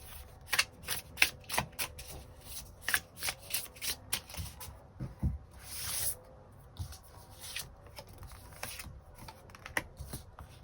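Tarot cards are shuffled and drawn by hand, a quick run of crisp riffling snaps and soft slaps in irregular bursts, close and fairly quiet with no talking.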